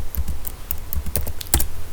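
Fast, close keyboard typing as a whois lookup is entered in a web browser, a dense run of sharp key clicks with no talking.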